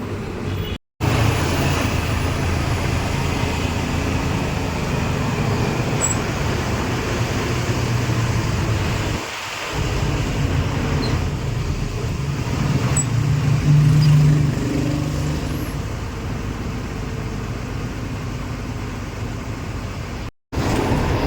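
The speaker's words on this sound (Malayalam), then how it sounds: "ഈ സമയമായതുകൊണ്ട് ഭയങ്കര ട്രാഫിക് കേട്ടോ" Heavy road traffic on the way to Kozhikode, a steady, continuous roar of passing vehicles that holds nearly unchanged throughout, with no talking.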